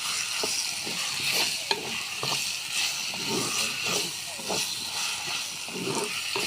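Raw chicken going into a pan of frying chana dal and onions, giving a steady close sizzle and hiss with repeated stirring scrapes throughout.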